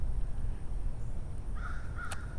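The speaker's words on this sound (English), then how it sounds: "Listen to all the crows in the background." Crows caw in the background of a front-yard garden, a couple of harsh calls near the end over low outdoor rumble, fairly distant.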